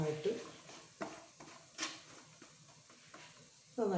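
Chicken being stirred and mixed in a pan with salt, producing a few separate scraping and clinking strokes of a utensil against the pan over a soft sizzle.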